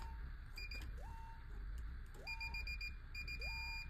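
A multimeter gives short electronic beeps during continuity checks on safety relay wiring, three separate bursts of bright beeping spaced about a second apart over a low steady background hum.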